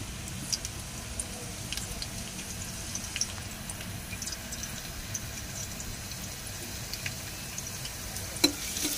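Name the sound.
chopped garlic and ginger frying in oil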